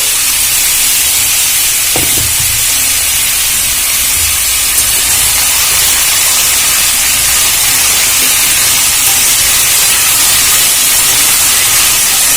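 Papaya pieces fry in a pan with salt, giving a continuous, even sizzling hiss that holds steady throughout at close range.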